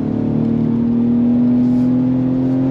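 Engine drone inside a 2022 Ford Explorer Timberline with a 10-speed automatic as it accelerates, a loud, steady hum that rises slightly in pitch, heard from the cabin without voices.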